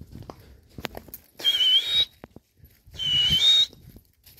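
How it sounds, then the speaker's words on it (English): Two sustained shrill blasts on a dog whistle during a walk with a cane corso, each lasting about half a second, loud and close, with faint rustling and footsteps between. "Use your whistle again"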